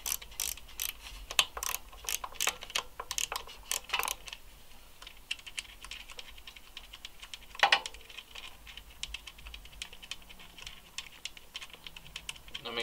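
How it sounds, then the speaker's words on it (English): Socket ratchet loosening and backing out a bolt on a motorcycle valve cover, heard as bursts of quick, close clicks through the first four seconds, then sparser ticks and a clunk. "I'm just going to loosen this bolt and take it out."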